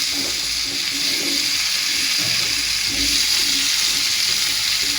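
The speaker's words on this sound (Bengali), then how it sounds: "এখন আমি আলুগুলো সুন্দর করে ভাজা করবো।" Potatoes frying in a pan with a little salt during home cooking, giving a steady, close sizzle with a constant bright hiss and faint stirring clatter underneath, no talking.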